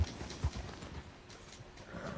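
Horse hooves clip-clop in a couple of dull, low thuds at the start, then fade into a steady rumbling background noise. The sound is close and moderately loud, with no talking.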